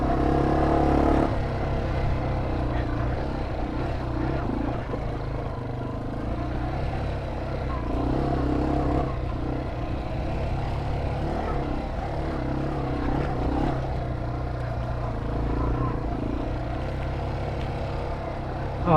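A Yamaha TW 200 motorcycle rides rough mountain singletrack in the fall, its engine droning steadily throughout with a rumbling low tone and wind noise.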